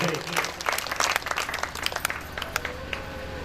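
An audience at a Shri Ram Katha religious gathering claps loudly and continuously, a dense patter of hands that fills the space, while speech is also present.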